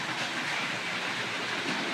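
A Class 31 model locomotive runs along a model railway track, giving a steady, continuous rushing rumble with a faint clattering texture throughout, fairly loud and close, with no speech.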